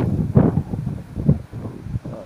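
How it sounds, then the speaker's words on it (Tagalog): Gusts of wind buffet the microphone in uneven bursts, rumbling low and close, rising and falling over a couple of seconds. "Tapos malakas yung hangin."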